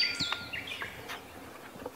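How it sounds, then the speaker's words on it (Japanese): A wild songbird, a coal tit or a blue-and-white flycatcher in the hills of Kita-Harima, Hyogo, gives a run of high, thin chirps and whistled notes nearby, clear and alone with no talk. "聞いたことのあるようなないような鳴き声が 近いけどね、 近くで聞こえてくるもんですからね"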